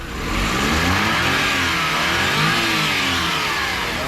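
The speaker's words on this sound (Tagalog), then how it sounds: "Ito yung makina niya mga kol is a K6A engine, naka turbo." A turbocharged K6A engine in a Japanese kei van runs steadily and loudly up close, a sustained mid-pitched drone with a slight rise in revs, no voices over it.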